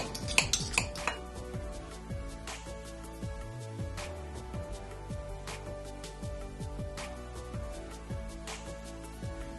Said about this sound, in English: I'm just using, like I said, my knife and fork, and I'm just gonna cut them up like so.